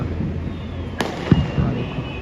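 A firecracker bursts once with a sharp, distant pop, followed a moment later by a duller thump, over steady low outdoor background noise.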